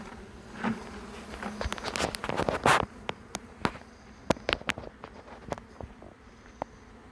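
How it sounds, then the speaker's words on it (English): Honeybees buzzing up close in an irregular swarm inside a bucket, individual insects droning past amid soft rustling and tapping, louder at first then thinning out. "I'm just going to shake these bees into this bucket."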